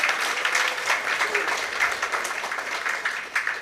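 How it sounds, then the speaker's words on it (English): An audience applauds a band after a live performance at a diaspora community event, a dense, steady clapping that fills the room and carries on throughout. "Another round of applause for them again."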